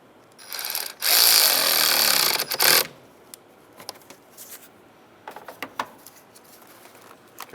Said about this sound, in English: Tighten up that nut.